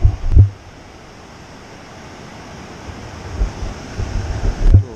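Ocean waves wash onto a beach at dawn, a steady low surf rumble with wind buffeting the microphone, swelling louder at the start and again near the end.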